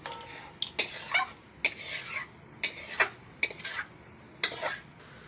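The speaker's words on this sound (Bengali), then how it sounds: "তরকারিটা আমি একটা পাত্রের মধ্যে ঢেলে নিলাম" Meat curry with chana dal scraped and poured from a metal pan into a bowl, a series of sharp clinks and scrapes of utensil against cookware in short bursts, close and fairly loud, with no voices.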